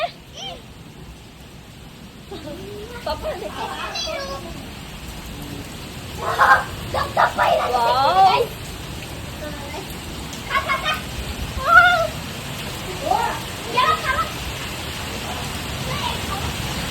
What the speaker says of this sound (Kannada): ಫೈನಲಿ ಮೈಸೂರಿಗೆ ಮಳೆ ಬಂತು. ತುಂಬಾ ಜೋರಾಗಿ ಬಂದಿದೆ